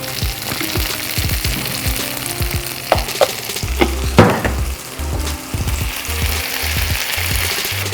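Milk poured into hot ghee in a pan while making navabi paneer sizzles and fries steadily, with a few stirring clinks and scrapes, close and fairly loud throughout with no talking.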